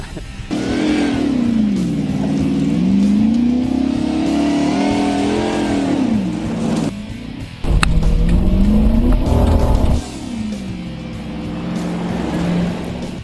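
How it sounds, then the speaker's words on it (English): A race car's engine strains loudly through really soft dirt, its drone rising and sagging in pitch as it bogs down, with a harsher, rougher burst midway before the steady laboring note returns. "I hear the engine bogging down through the really soft stuff"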